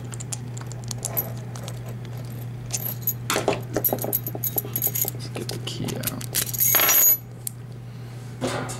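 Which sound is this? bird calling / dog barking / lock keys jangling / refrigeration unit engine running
lock keys jangling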